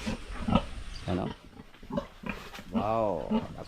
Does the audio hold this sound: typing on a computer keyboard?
no